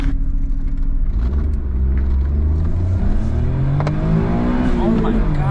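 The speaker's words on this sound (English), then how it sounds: "About to be my first time driving the dual overhead cam all-wheel drive Suzuki Alto." A dual overhead cam, all-wheel-drive Suzuki Alto RSR kei car revs up from inside the cabin, its engine note climbing steadily and loudly, with a voice speaking over it.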